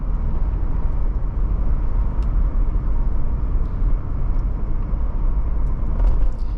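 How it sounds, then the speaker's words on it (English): Steady broadband road rumble and wind noise fill the cabin of a 1987 Mercedes-Benz 300TDT wagon on the move, constant and fairly loud with no talking. "You can hear it cutting through the wind a little bit, but it's not obnoxious."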